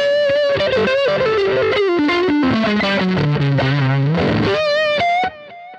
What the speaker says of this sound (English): for some reason this past week the fuzz pedal's really been working for me